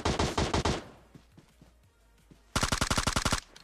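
Enemy gunfire in the mobile battle-royale game PUBG Mobile: loud rapid automatic bursts at the start, scattered fainter shots in between, then another sustained rapid volley near the end.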